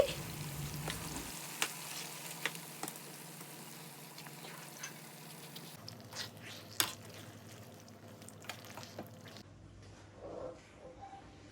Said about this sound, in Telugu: ఇప్పుడు స్టవ్ ఫ్లేమ్ని సిమ్లో పెట్టుకుని ఈ పచ్చడంతా తాలింపులో చక్కగా కలిసే విధంగా ఈ విధంగా కలపాలి